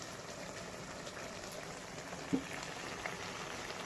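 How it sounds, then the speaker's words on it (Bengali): A pot of dried fish curry with Malabar spinach greens simmers on the stove, giving a quiet, steady bubbling and soft popping, with one brief louder tap partway through. "এগুলো সেদ্ধ হোক।"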